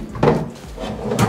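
Drawer in a bedroom closet of a flat-roofed bungalow sliding open and shut, two close wooden thumps with a soft rolling scrape between them, no one speaking.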